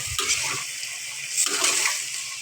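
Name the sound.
water poured into curry for gravy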